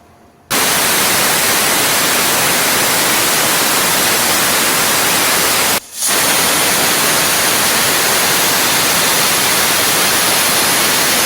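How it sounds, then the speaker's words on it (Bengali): A pressure cooker on the stove hisses loudly with a steady, rushing steam whistle while spinach dal cooks inside. The jet breaks off briefly partway through, then resumes at full strength. "আমার চারটে সিটি দিলেই তৈরি হয়ে যাবে পালং শাকের ডাল"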